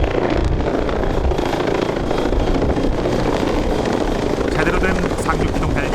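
Army transport helicopter supporting Korean marine landing training, a loud steady rotor and engine roar that fills the whole stretch, with speech over it.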